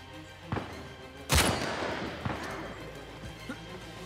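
Sniper rifle shots fire in the Uncharted 4 video game, with a few sharp single reports spaced apart and one loud close blast standing out above a low game-ambience bed.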